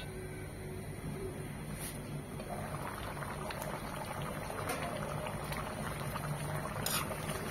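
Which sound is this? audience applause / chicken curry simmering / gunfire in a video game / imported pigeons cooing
chicken curry simmering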